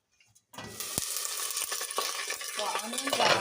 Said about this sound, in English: So our onions are soft, they're cooking